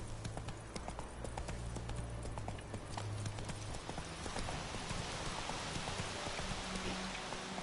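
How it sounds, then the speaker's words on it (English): Hoofbeats of Roach, the horse in The Witcher 3, clip-clopping steadily at a gallop through an ongoing rain-like hiss, with a constant low hum beneath. "Run, Roach."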